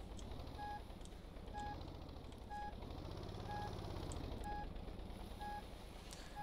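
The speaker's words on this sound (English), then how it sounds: "As you can hear, we have our backup alarm." Evenly spaced electronic backup beeps from a container lifter vehicle in the video game Stormworks repeat about once per second over a low rumbling engine drone.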